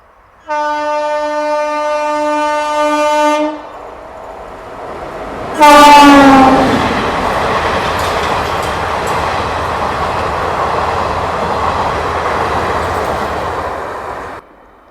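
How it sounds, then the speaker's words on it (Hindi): The Hazrat Nizamuddin–Bandra Terminus Garib Rath Express sounds a long, loud horn blast, then thunders past close by with a heavy, sustained rumble of wheels and cars that runs to the end. No one speaks. "तो ये थी आपकी हज़रत निज़ामुद्दीन बांद्रा टर्मिनस गरीब रथ एक्सप्रेस।"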